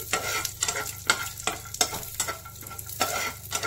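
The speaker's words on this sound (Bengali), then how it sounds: "এবার একটু ফ্রাই করে নেব কারি পাতা, সর্ষে আর বাদাম একসাথে।" Curry leaves, mustard seeds and peanuts fry in hot oil, an up-close sizzle broken by repeated sharp stirring scrapes and crackles at an uneven rhythm, with no talk.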